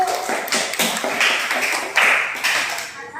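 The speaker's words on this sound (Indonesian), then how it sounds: "Tepuk tangan kelompok 1." A classroom group applauds a presentation by the first discussion group in an Islamic religious education class, with dense, overlapping claps sustained for about three seconds at close range and no speech.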